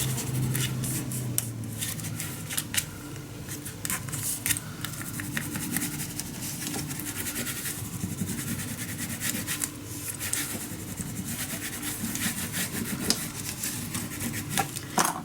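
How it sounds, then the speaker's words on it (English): Paper being burnished flat onto a flippable pocket page of a handmade mini album, a steady dry rubbing and scraping that continues throughout at close range, with no talking. "Burnish it down, and then this little flippable pocket page is"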